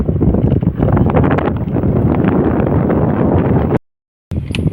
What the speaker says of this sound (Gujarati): ઠંડો ઠંડો પવન આવી રહ્યો છે